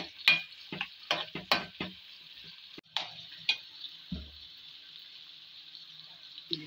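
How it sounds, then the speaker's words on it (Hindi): Steady sizzling of onions frying in a pan with a few clinks and scrapes of stirring, fairly quiet and close. "इसके अंदर हम प्याज डालेंगे और इसको अच्छे से फ्राई करेंगे"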